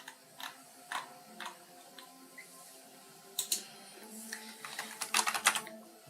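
Keyboard typing in short irregular bursts of clicks and key taps, fairly close and moderately quiet, with denser, louder clatter toward the end and no talking.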